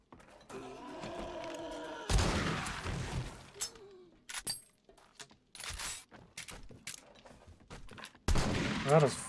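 Shotgun blasts and scattered impacts in the video game 7 Days to Die come in several sharp, separated bursts with clinks and rattles between them, mixed with other game noises.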